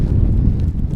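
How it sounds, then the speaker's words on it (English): Steady low buffeting roar of wind blowing straight into a microphone while someone walks outdoors, loud and close, masking almost everything else. "I'm kind of walking into the wind"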